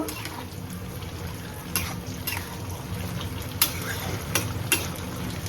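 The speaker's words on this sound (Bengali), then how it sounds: "বোয়াল মাছ ভাজা করছি" Pieces of boal fish fry in oil with a constant, moderate sizzle, broken by occasional sharp clicks and taps of a utensil in the pan.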